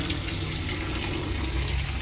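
Tap water pouring steadily in a home kitchen while something is washed before pickle-making, a constant close rushing splash without pauses and with no voices.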